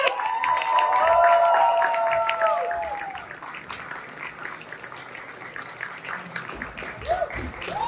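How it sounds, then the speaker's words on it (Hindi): An audience claps steadily to welcome a guest at an event, a broad wash of applause that starts loud and slowly thins out, with a voice briefly heard early on. "फिर से तालियां बजाते हुए हम स्वागत करते हैं"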